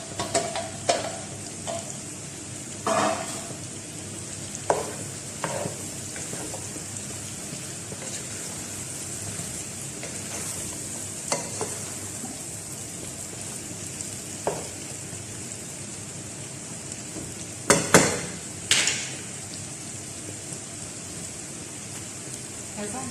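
Vegetables frying in a hot pan and being stirred with a utensil, a steady sizzle broken by repeated scraping and clattering strokes, a few louder near the end.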